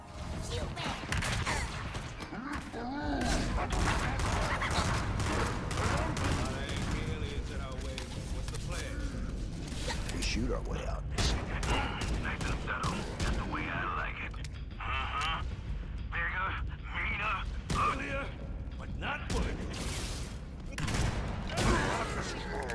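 Rapid bursts of gunfire crackle through a Halo firefight, volleys of sharp shots piling up densely for long stretches, with voices speaking over the combat.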